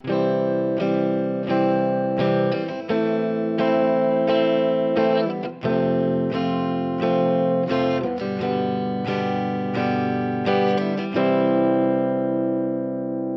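A sustained, distorted instrument plays a slow chord progression, each chord ringing for about a second before changing, loud and steady with no voices.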